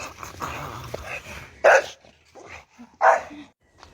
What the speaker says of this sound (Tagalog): Buldog, buldog. Tinan mong galing ng aso.